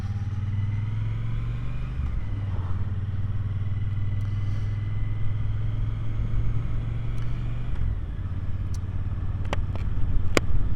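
A Triumph Bonneville T120 Black motorcycle riding along, its steady engine drone and wind rumble continuous throughout with a brief gear-change dip, a few faint clicks near the end.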